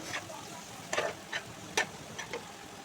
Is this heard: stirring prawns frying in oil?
yes